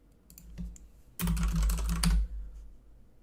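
Typing on a computer keyboard, a quick flurry of clacking keystrokes bursting in after a couple of isolated taps, fairly close and alone, ending abruptly.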